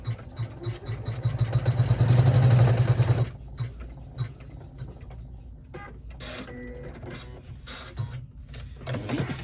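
A home embroidery machine stitches a wallet in the hoop, a loud rapid mechanical chatter that builds for about three seconds, then stops, leaving quieter clicks and whirring as the hoop moves to the next position.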